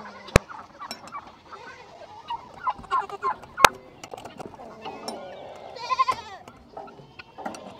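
Goats loose outside their pen bleat repeatedly at close range, mixed with fowl calls and sharp knocks in an outdoor farmyard.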